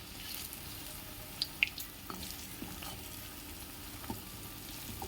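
Dahi vada fritters frying in hot oil over a medium flame, a soft steady sizzle with faint bubbling and a few small pops and clicks, fairly quiet and with no voices over it.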